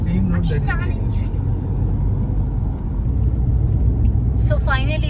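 Car driving along a road near Aurangabad, India, a steady loud engine rumble and road noise throughout, with voices talking briefly at the start and end.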